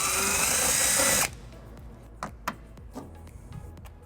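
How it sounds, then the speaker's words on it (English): A socket tool tightens a bracket bolt with a 3/8 socket on a 2013 Lexus RX350: a loud continuous power-tool whir for about a second, then stops, followed by a few light clicks and taps. "And then we'll tighten it using a 3/8 socket."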